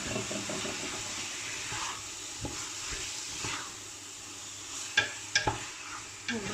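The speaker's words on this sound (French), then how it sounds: "Donc je mélange un coup." A spoon stirs tomatoes into browned meat and onions for a Moroccan couscous, making soft wet scrapes over a low simmering sizzle, with a few sharper clinks against the pot near the end.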